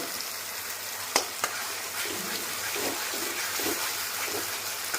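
Ground tomato paste going into a hot pan for a matar paneer ghugni, a bright steady sizzle with a couple of sharp taps and soft stirring scrapes, close and fairly quiet.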